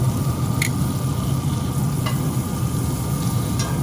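Steady, close sizzle of chicken frying in a pan, a continuous crackling hiss with a few brief clicks, no talking.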